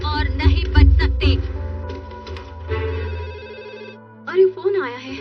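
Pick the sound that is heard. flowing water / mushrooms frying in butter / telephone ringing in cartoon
telephone ringing in cartoon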